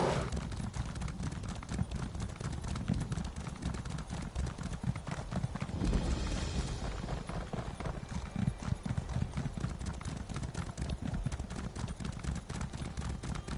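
Horse hooves galloping steadily in Elder Scrolls Online, a continuous rapid clip-clop rhythm running the whole time at close range, with a brief neigh and no talk over it.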